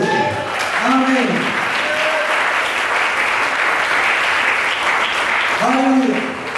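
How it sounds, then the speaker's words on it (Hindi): Congregation at a Hindi-language church service applauding, a sustained wash of many hands clapping together for several seconds, loud and dense, with a preacher's voice briefly heard at the start and end. "प्रभु को धन्यवाद की ताली दे।"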